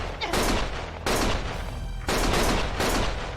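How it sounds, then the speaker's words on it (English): Gunfire in Lost Judgment comes in loud, rapid automatic bursts: three sustained volleys separated by brief gaps, dense and close, with barely any voice over it. "Stop shooting!"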